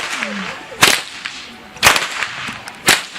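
Three loud, sharp whip cracks spaced about a second apart, close by, with faint background noise between them, outdoors in Budapest, Hungary.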